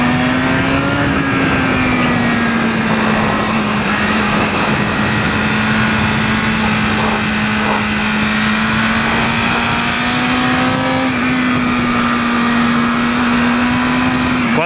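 A 2020 BMW S1000RR motorcycle engine drones steadily while riding, its note rising and dipping slightly over a constant bed of wind rush, loud and close throughout.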